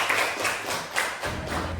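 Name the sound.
applause in a classroom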